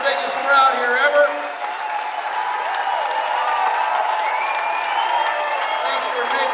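Crowd applause and cheering greet a speaker at Bob Fest, a large gathering, sustained and dense throughout with a burst of louder cheering early on, voices and whoops mixed into the clapping.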